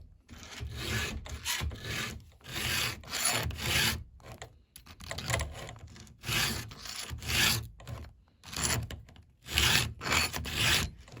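A hand file sharpens the chain of a STIHL GTA 26 garden pruner with rhythmic rasping push strokes, short grinding bursts coming in uneven groups with brief pauses, close and clear.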